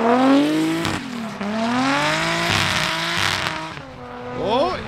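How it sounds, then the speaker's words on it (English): A 1JZ-engined NASCAR race car drifts, its engine revving and wailing up and down in pitch with gear changes, while tires squeal and skid; the car is close and loud, with a brief lift near the end before revving again. "Josh is going to attempt to drift the car"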